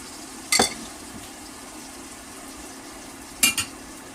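Beef and tomato frying in a pan for village-style beef pasta: a steady, faint sizzle runs throughout, broken by two brief, sharp scrapes of stirring.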